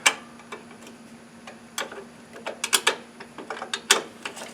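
Ratchet wrench clicking in short irregular bursts while bolts come off a bracket on an Ariens Ikon zero-turn mower, sharp close ticks separated by brief pauses, with no talk.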